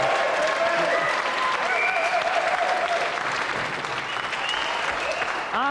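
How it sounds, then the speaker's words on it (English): Sustained applause from a TV game show studio audience, GamesMaster, loud and continuous crowd clapping filling the whole stretch, with faint tonal sounds and voices mixed in. "give a round of applause again for our loser Sahid and our winner Annabel Croft"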